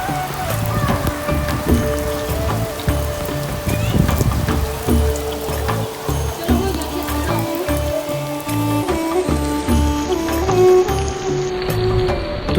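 Rain falls steadily in Sialkot, Punjab, a continuous pattering wash on surfaces, loud and close, running beneath recited poetry with a musical backing.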